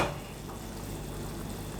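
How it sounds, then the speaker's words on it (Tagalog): Steady bubbling and simmering of water boiling in a pot, close and continuous, with no voices. "So kumukulo na"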